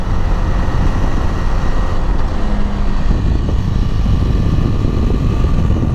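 A KTM motorcycle built on the Duke chassis drones steadily while riding twisty roads, its engine and wind noise loud and continuous throughout.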